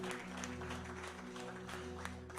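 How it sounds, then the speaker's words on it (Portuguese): Church congregation applauding together in a steady, continuous wash of clapping over a low sustained musical hum, even and moderately loud throughout. "Você pode aplaudir ao Senhor Jesus?"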